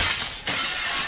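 Glass breaks in the Stalker game world, a bright crackling shatter that surges up sharply midway and keeps spraying fragments at a steady loudness to the end.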